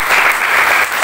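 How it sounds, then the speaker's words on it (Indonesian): A church congregation at an evangelical revival service in Kupang bursts into loud, dense applause, continuous for the whole moment. "Beri dulu tepuk tangan yang terbaik buat Tuhan Yesus Kristus."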